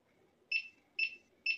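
Three evenly spaced electronic beeps from a Gotway Msuper electric unicycle after power-on, each a short bright tone repeating about every half second, fairly close and clear over faint background hum.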